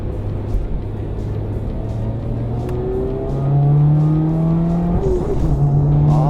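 A Toyota GR86 running an SA Hamamatsu sports ECU, accelerating hard with rising engine tones and flat upshifts taken with the throttle held down, a loud close engine drone that climbs between gear changes.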